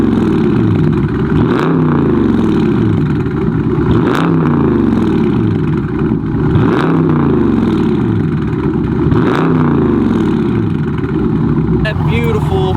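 A 2021 Dodge Charger 392 with a 6.4 liter V8 and straight-piped stainless exhaust revs loudly and close, rising and falling in about five even sweeps with a deep rumbling idle between them.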